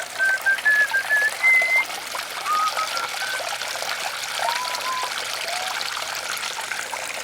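Water runs steadily out of a gold sluice box set near a house, trickling and splashing continuously at close range, with a few thin high chirps over it.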